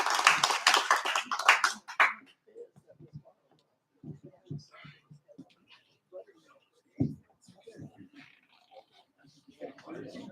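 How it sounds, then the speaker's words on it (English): An audience claps for about two seconds after a lecture, then the applause stops and quiet voices talk intermittently. "Give Dr. Coutre a big round of applause"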